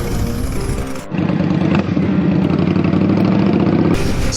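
A motorbike runs along a rough, bumpy banded haul road, its engine loud and close with a steady droning note, briefly dipping before a stronger, sustained pull.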